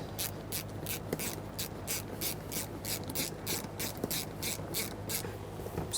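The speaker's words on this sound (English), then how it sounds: "Just going to use a bigger ratchet here, make sure it's nice and tight." A ratchet with a 12mm socket tightens a fuel pressure regulator mounting bolt on a 2010-2013 Kia Forte Koup 2.4L, giving a steady run of close, rhythmic clicking strokes with no talking.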